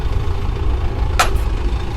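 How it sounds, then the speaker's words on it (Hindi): A tractor hauling a trolley loaded with sugarcane near a sugar mill, its steady low engine rumble running throughout, with a brief sharp hiss or clank partway through. "इस तरह से ट्रैक्टर ट्रॉलियों में गन्ना लाया जा रहा है"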